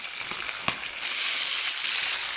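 Chicken liver drops into a hot pan for chicken tinola, giving a small clack followed by a steady, close, hissing sizzle that swells slightly and carries on with no talk over it.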